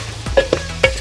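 A spoon stirs a chopped onion mixture in a pan, giving a few short scraping clinks over a soft, steady sizzle.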